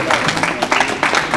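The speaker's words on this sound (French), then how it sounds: "oui, on peut l'applaudir." Applause from a crowd at an outdoor inauguration of a city-centre cycle lane in Metz, a short burst of dense clapping rising and falling in waves, moderately loud.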